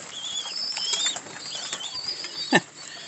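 Busy chirping and twittering of small birds feeding, with a flurry of wing flaps, ending in one sharp louder flutter near the close.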